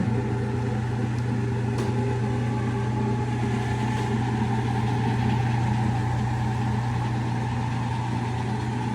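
A rebuilt Hardinge lathe runs with a loud, continuous motor hum and drone that stays steady throughout, with no clear change in pitch or stop.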